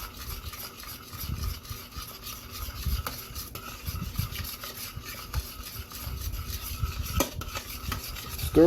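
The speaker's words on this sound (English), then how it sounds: "Stirring consistently." Beef brisket is stirred steadily as it simmers in a pot, giving a continuous soft rubbing and scraping with irregular low bumps and a faint sizzle underneath, with no talking.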